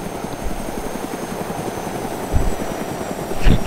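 A helicopter flies in a multiplayer video game, its steady rotor thump pulsing continuously at close range and swelling louder near the end.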